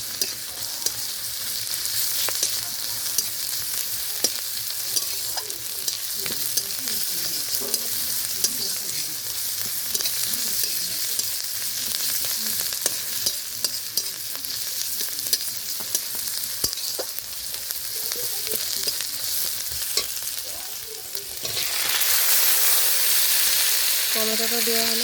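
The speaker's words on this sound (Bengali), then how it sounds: "রসুনটা ভাজা হয়ে গিয়েছে।" Garlic and chopped ginger fry in hot oil for a pangas fish curry, giving a steady, close sizzle with stirring scrapes throughout, then a louder hiss near the end as more ingredients go into the pan.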